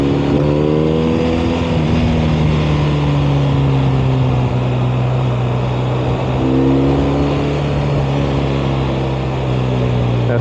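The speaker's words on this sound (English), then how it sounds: "I'm really liking the sound of this header and the Kropovich pipe." Ducati motorcycle with a header, Kropovich exhaust pipe and cat delete revving while riding in second gear, a loud close engine note rising and falling through several throttle sweeps.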